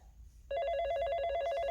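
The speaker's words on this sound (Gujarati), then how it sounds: "કાકાનો ફોન આવ્યો" A telephone begins ringing abruptly after a brief quiet moment, a bright electronic trill repeating rapidly and steadily, close and clear.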